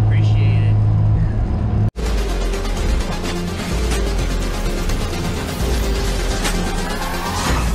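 A 1991 Honda CRX DX with a B16 engine revs loudly and roars past close by, with a sudden cut near the start, under a busy, noisy background.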